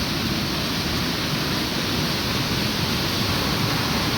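A strong river swollen by three days of heavy rain rushes steadily, a dense, continuous roar of water that stays loud and even throughout with no voices.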